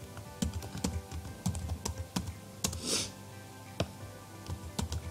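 Keys clatter on a computer keyboard as a project name is typed into Siemens TIA Portal software, with uneven bursts of close, crisp clicks and short pauses between them.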